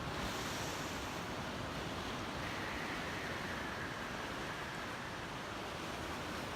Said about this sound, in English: I'm going to turn a little bit more here to face the ocean.